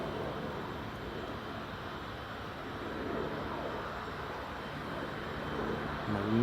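An Emirates airliner taxis at Newcastle Airport, producing a steady, broad jet-engine roar that holds at a moderate distance and swells slightly toward the end, with no voices.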